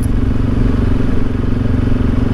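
A motorcycle fitted with a Wings exhaust and Rade air intake idles or runs steadily close by, a loud, even engine drone with a pulsing low rumble throughout and no speech.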